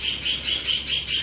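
Birds squawking in Microsoft Flight Simulator 2020 during a Piper Arrow landing approach: a rapid, piercing series of about six shrill, evenly pulsing calls, close and clear over a low rumble.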